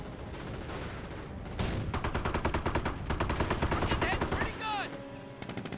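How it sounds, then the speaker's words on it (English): Rapid machine-gun fire from a Greyhound armored car during a Company of Heroes battle, sustained rattling bursts over battlefield noise, with a voice talking underneath. "Greyhound firing away, of course."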